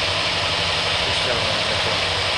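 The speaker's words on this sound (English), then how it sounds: "So let me idle it down a little bit." A carbureted engine fitted with a Holley four-corner-idle carburetor runs steadily at a low idle. It makes a continuous, dense, rumbling drone with no clear breaks.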